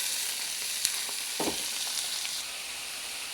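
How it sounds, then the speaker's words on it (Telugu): Steady hissing sizzle of onions and green chilies frying in a pan, continuous and close, with a brief stir or scrape in the middle. "మనకి పోపు అయితే వేగిందండి ఉల్లిపాయ పచ్చిమిర్చి కూడా వేగినాయి"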